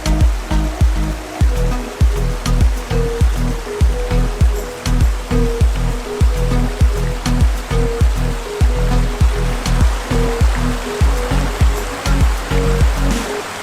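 A waterfall and stream flow through the Devil's Punchbowl slot canyon, a loud continuous rushing roar of water close by, with a pulsing rhythmic churn as the flow pours and splashes steadily without pause.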